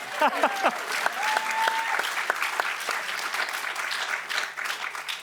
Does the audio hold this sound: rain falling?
no